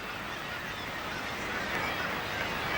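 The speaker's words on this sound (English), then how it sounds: "A cacophony of sound, a veritable symphony to the ears of bird watchers." A dense, continuous din of many birds calling at once at a seabird nesting colony in Orkney, loud and unbroken throughout.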